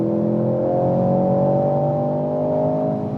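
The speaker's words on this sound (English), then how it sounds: "when you go off the throttle, you also have some plop plop plop from the exhaust" A sporty car's engine drones loud and close, holding a steady, slightly rising throttle note for about three seconds with no talk.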